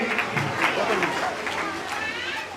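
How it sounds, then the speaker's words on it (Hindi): Audience applause at a Jain moral-education camp closing ceremony in a temple in Delhi, a dense, steady patter of many hands filling the whole moment, with a voice or two over it. "सभी जोरदार तालियां बजाएंगे।"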